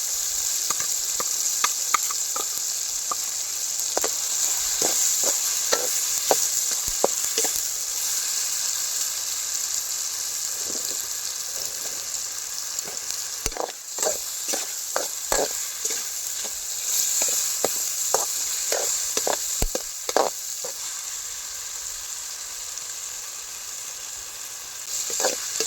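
Ginger garlic frying with softened tomatoes in a pan for a village-style wild mushroom curry, a long continuous sizzle punctuated by frequent sharp spoon clacks and scrapes as it is stirred, close and without speech.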